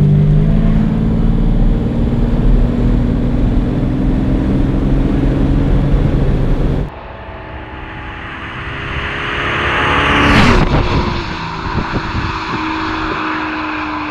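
A restored 1972 Jaguar E-Type V12 coupé with its 5.3-litre engine, loud and close, a steady rumbling idle that cuts off abruptly, then a rising rev and a sharp high-pitched swell before settling back.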